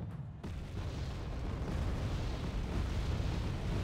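Booming artillery fire from the video game Wargame: AirLand Battle rumbles steadily across a battle zone, with a dense, continuous low roar of distant blasts running throughout without any talk.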